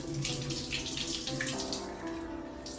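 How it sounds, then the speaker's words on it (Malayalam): Water runs from a tap into a sink with a steady splashing rush, close and continuous, as rice is rinsed beneath it. "അരി രണ്ട് മൂന്ന് പ്രാവശ്യം കഴുകിയിട്ട്"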